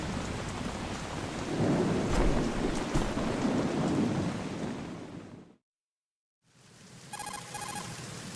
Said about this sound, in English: The rain looks good now